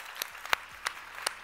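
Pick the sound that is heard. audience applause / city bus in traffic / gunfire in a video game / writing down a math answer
audience applause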